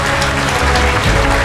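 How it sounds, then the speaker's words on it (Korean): A church congregation claps for the pastor at a missionary conference in London, the dense crowd applause steady and loud throughout, with no voices over it. "우리 목사님 박수로, 큰 박수로 모시겠습니다"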